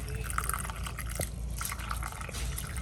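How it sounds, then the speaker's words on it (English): Water poured into a homemade rock and dirt filter trickles and drips steadily, a soft liquid pouring sound close by with background room noise. "So we're going to pour this in."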